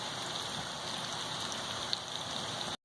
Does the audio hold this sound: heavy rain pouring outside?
yes